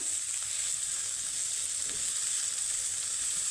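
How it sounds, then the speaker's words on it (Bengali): Chopped cabbage and potato fry in a pan with an even, steady hiss of sizzling oil, constant and moderately quiet throughout, no voices. "তা আলুর সাথে একটু বাঁধাকপিটা আমি একটু ভেজে নেব"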